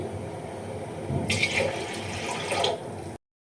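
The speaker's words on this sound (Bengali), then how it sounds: "আর একটু বেশি করে জলটা দিয়ে দিই" Water is poured into a vessel in one continuous stream lasting about a second and a half, rising over a low background hum and then stopping abruptly.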